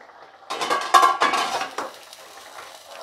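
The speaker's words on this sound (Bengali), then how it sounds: "5 মিনিট পরে ঢাকনাটা খুলে দিচ্ছি" A metal lid lifted off a pot of fish curry with potatoes cooking inside, giving a short burst of close clattering and scraping, then a brief rattle and a fade to quiet.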